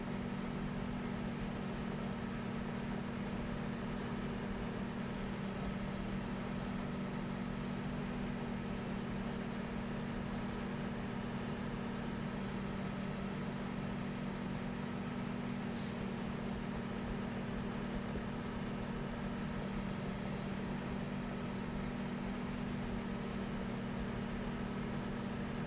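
A tractor engine in the farming video game Farming Simulator 15 runs at a steady idle, a continuous low drone with a strong hum that stays unchanged throughout, with no talking.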